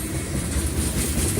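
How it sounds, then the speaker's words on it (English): A long train rolls steadily past at night in rural Georgia, its railcars producing a continuous loud rumble and rhythmic clatter, heard close by with no talking. "That's a long train"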